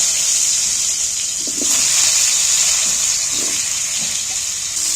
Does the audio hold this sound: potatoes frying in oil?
yes